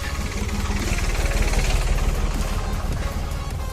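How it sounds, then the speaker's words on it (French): A passing tractor gives a continuous low engine rumble with a throbbing drone that holds steady throughout and sounds fairly close, with no talk over it. "il y a un tracteur qui passe"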